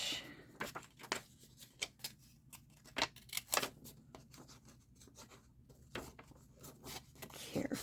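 Scissors cutting a hole out of card, with a string of quiet, close snips and rustles at an uneven pace.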